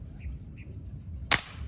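A speargun fires at a big snakehead fish underwater, a single sharp loud crack standing alone after near-silence, with faint chirps just before.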